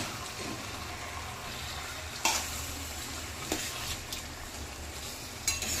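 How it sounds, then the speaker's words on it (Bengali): Marinated chicken added to a pan of cooked masala for chicken pulao, a faint, steady low sizzle with a few soft clinks and scrapes of stirring, no speech. "এবার এখানে ম্যারিনেট চিকেনটা ঢেলে দেব।"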